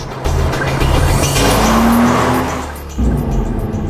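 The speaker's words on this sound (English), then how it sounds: "And a sports car." A sports car drives by with a loud, continuous engine roar and a rising whine, dipping briefly before surging again, with no voices.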